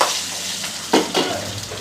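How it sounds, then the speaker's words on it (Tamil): Curry leaves, dried red chillies and garlic sautéing in a hot pan, a steady sizzle with a couple of louder stirring scrapes and bursts of frying partway through, close and fairly loud, no talking. "கருவேப்பிலை காஞ்ச மிளகாய் பூண்டு இதெல்லாம் போட்டு நல்லா வதக்கிட்டு"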